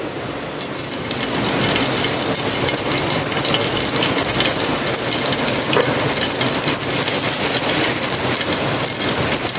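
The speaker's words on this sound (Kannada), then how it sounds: "ಈಗ ಇದಕ್ಕೆ ತುಪ್ಪ ಹಾಕಿಕೊಳ್ಳಿ" Ghee going into a hot pan for ghee rice, a steady loud sizzle and crackle that swells after the first seconds and holds close and continuous with no talking.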